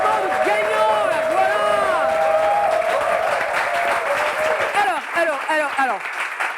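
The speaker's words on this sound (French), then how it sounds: "On veut des applaudissements de gagnants, là" Loud crowd applause and cheering for the winner of a Bible quiz round, dense clapping mixed with whoops and shouting voices, sustained throughout and thinning slightly near the end.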